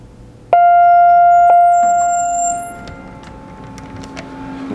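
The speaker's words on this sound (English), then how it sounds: "Ring the bell." An Otis Series 1 hydraulic elevator's bell gives a single bright ding with a long ringing decay, followed by two softer chime-like strikes and quieter mechanical ticks and clicks as the car sits at the floor.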